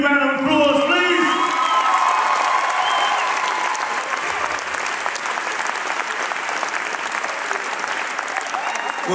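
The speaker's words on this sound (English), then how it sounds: "Please give them a big round of applause, please." Audience applause with cheering and whoops from a crowd in the Royal Festival Hall at a Celebration of Life evening event, loud and steady throughout, with dense clapping and some voices rising over it.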